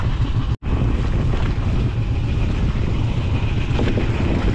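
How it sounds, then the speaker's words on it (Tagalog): A fishing boat's engine runs at sea on a lobster trip, a loud, constant low rumble with a brief dropout near the start, mixed with wind buffeting the microphone and wave noise. "paanda rin lang muna ni Gagi ang ating makina"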